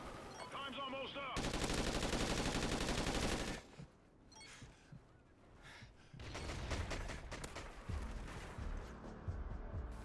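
Enemy gunfire in the Call of Duty: Ghosts game: loud bursts of rapid automatic shots in two main stretches, separated by a quieter gap with scattered shots and distant noise.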